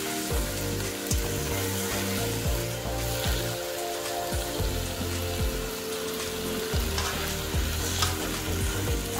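Prawn chow mein with vegetables sizzles steadily in a pan while it is stirred, with repeated scraping strokes breaking through the hiss. No one speaks.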